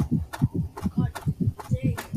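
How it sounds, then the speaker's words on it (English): A heartbeat thumps in the horror video game Sinkwalker, a quick regular lub-dub pulse of about a dozen low beats that stays close and prominent with no speech over it. "Why do I have heartbeats?"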